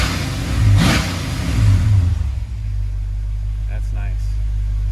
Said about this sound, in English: Man, it's just look how snappy this rev is.